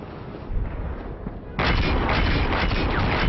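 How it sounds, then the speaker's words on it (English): Dense, continuous gunfire from the Enter The Matrix video game, a steady rumbling barrage that suddenly grows louder and fuller partway through and keeps roaring to the end, with no talk. "I definitely always like the ripple effect on the bullets."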